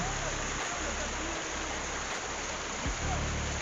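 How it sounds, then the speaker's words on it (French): Small forest waterfall, a steady broadband rush of falling water heard up close, with a few brief thumps and handling noises over it. "Petite cascade."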